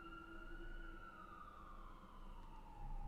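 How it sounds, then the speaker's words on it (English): Emergency vehicle sirens of New York City wail at a steady distance, their pitch slowly sliding downward over a low traffic rumble, continuous and moderately loud throughout. "being welcomed by the sirens of New York City"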